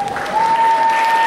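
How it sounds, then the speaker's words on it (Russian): Brief burst of audience applause at an award ceremony, a steady wash of many hands clapping with a faint tone running through it. "ваши аплодисменты"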